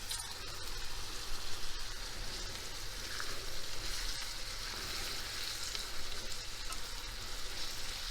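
Peppers frying with lightly softened onions in oil in a pan for a minced-meat egg dish, a dense, steady close sizzle with faint crackles and no talking.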